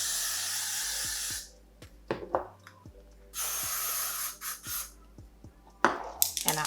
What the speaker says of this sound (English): I'm gonna go in with a little bit of this Chi Hold spray